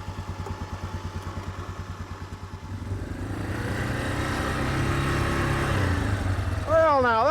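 An ATV engine drones and labours while a winch pulls it through mud, a rough pulsing rumble at first that smooths into a louder sustained strain, with a voice briefly speaking near the end.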